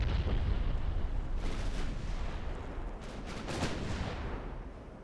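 Naval guns, including 11-inch guns, firing in the video game Ultimate Admiral: Dreadnoughts, a steady rumble of distant heavy gunfire with a few sharper reports rising from it.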